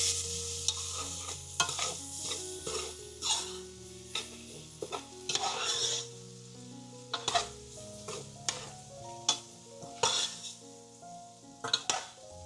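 A shrimp stir fry is stirred in a pan, with rhythmic scrapes and clanks of the utensil over a light sizzle and soft background music, with no talking.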